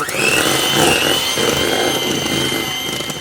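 An electric mixer creams cream cheese for a cake batter, a loud, steady motorized whir running continuously and close up, with no talking.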